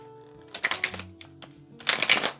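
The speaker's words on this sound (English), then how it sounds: "you see how bent it is and how it makes that horrible flapping sound." A bent tarot deck with poor cardstock being shuffled, giving two close, loud bursts of flapping, riffling cards separated by a brief lull.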